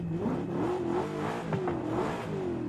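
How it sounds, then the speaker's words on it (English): A naturally aspirated V8 car engine in the racing game Forza Horizon 5 revs up and down in steady swells, a droning mid-pitched engine tone with a brief sharper throttle blip near the middle. "Sounds like a naturally aspirated V8."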